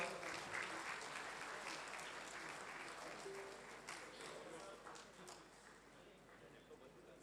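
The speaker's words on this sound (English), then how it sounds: "Big round of applause." An audience at a members' meet of a professional institute's Ahmedabad branch claps in a steady, moderately distant round of applause during a felicitation on the dais, dense patter holding throughout with faint voices mixed in.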